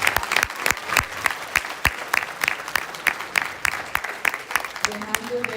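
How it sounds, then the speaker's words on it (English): Audience applause at a youth volunteer program annual day, sharp individual claps standing out over a steady crowd patter, fairly close, with faint murmuring underneath. "A huge round of applause for them, please."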